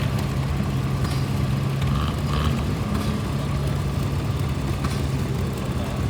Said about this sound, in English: Nice straight old tractor.